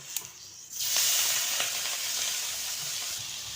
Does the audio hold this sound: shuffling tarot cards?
no